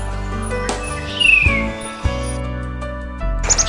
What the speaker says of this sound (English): its song can be heard all year, as the titmouse is a permanent resident of the Northeast